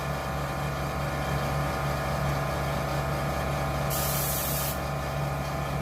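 A steady hiss of an airbrush spraying runs throughout, close and constant, with a brief brighter burst of spray near the end.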